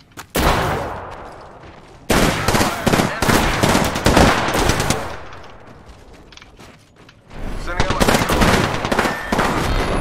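Loud, close automatic gunfire from a shooter video game comes in long sustained bursts separated by brief lulls, with faint background voices.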